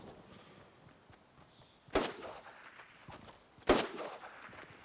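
Gunfire from a hand cannon and a heavy weapon in a video game shoot-off: two sharp, loud blasts about two seconds apart, each with a short ringing decay, over quiet background.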